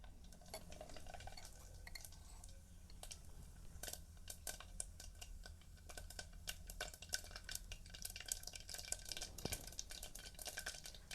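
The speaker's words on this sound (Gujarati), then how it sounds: "હવે જો આપણે તેલ ગરમ થઈ ગયું છે તો આ નાખી દેવી રાઈ જીરું." Mustard seeds and cumin crackle and pop in hot oil, tempering for a Gujarati bottle-gourd curry; sharp irregular snaps scatter over a steady frying hiss, with occasional utensil clinks.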